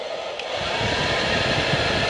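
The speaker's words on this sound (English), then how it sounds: "A built-in hairdryer." A built-in hair dryer in a cruise ship cabin on the Norwegian Jade runs with a steady, loud whooshing hum that starts up and holds constant.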